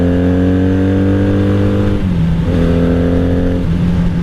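A 1997 Honda Magna VF750C V4 cruiser with a Vance and Hines exhaust, heard close and loud from the rider's seat, a steady deep engine drone that shifts pitch as the revs drop and climb again.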